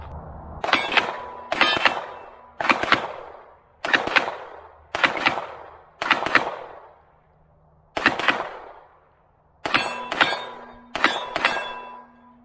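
Canik Rival pistol fired in quick double taps outdoors, sharp loud paired cracks repeated about eight times with short pauses between pairs, each followed by a brief ringing tail.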